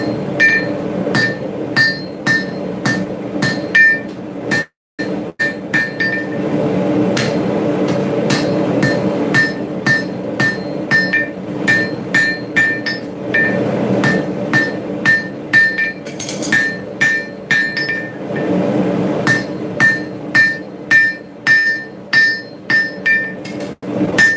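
A blacksmith hammers hot metal on the horn of an anvil to draw it out: loud, ringing metallic strikes in quick, steady runs with a brief pause partway, close by and without talk.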